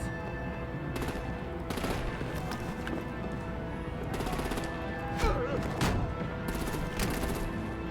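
Gunfire in a Batman: The Enemy Within game scene, scattered shots and bursts against a busy action background with vehicles, fairly steady and mid-distance, with no clear talk.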